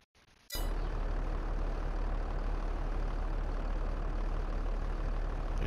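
A tractor engine in the video game Farming Simulator 22 starts up suddenly and runs with a steady, loud, unbroken rumble that fills the whole stretch.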